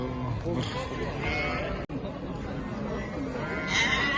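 Sheep bleat repeatedly amid a busy crowd of voices at a livestock market in Kara-Balta, the calls overlapping with steady chatter and livestock noise throughout.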